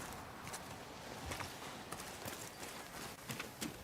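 Horse hooves clip-clop at a walking pace in Ghost of Yotei, a steady near rhythm of soft knocks over faint ambient wind, with no talking.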